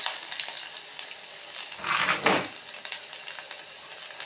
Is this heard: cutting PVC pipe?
no